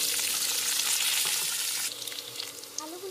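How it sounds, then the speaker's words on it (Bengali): Cut potatoes fry in hot oil with dried red chilli, black cumin and bay leaf for a pumpkin and potato curry, giving a loud, dense, steady sizzle that eases slightly near the end, with a few light clinks of a utensil. "আলুগুলোকে 2 থেকে 3 মিনিট ভেজে নিয়ে"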